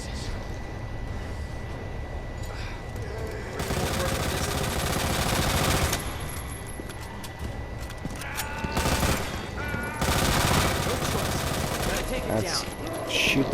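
Rapid automatic gunfire in a video game, sprayed at an eye-shaped target, comes in dense, loud bursts with brief lulls between them, while voices talk over the shooting.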